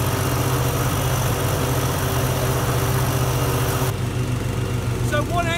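A Time Master petrol lawn mower, one engine driving two blades, runs loud and steady close by, a constant droning rumble that dulls slightly near the end.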